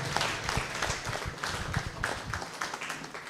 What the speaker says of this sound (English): I think we should give Solicitor General Emeritus Mr. Toke bigger clap than that